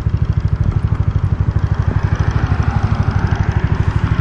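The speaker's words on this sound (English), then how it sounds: "The scooter's already warmed up now, so we don't have to worry. See, it's idling at 1500 RPM." A warmed-up Znen ZN150T-9 GY6 150cc scooter engine idles steadily close by at 1500 RPM, its rapid, even low putter pulsing without change throughout.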